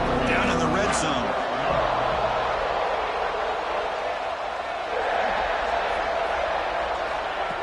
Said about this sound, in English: And the crowd coming to life here, trying to help this defense down in the red zone